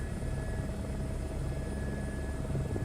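A helicopter in Microsoft Flight Simulator 2024 hums steadily with a constant rotor and engine drone over New Zealand, loud and unbroken with no talking.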